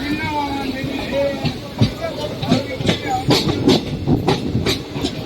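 A crowded, late-running passenger train pulls into Kadur Junction on the Bengaluru–Talaguppa line, with steady rail rumble, hissing and a run of sharp clanks and squeals, while a voice talks over it close by.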